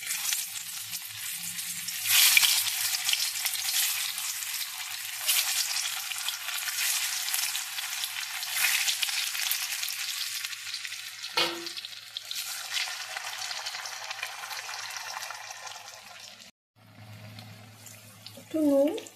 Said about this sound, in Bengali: আলুটাকে আগে একটুখানি ভেজে নেবো